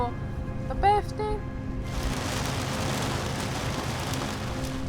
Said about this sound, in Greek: Έβρεχε, ήταν βροχερή μέρα.